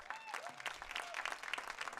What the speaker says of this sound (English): let's have a round of applause for our 2026 seniors